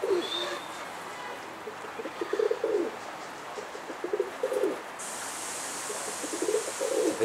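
Pigeons coo in soft, repeated low bursts at moderate distance over a steady outdoor hiss, with a brighter rushing noise coming in partway through.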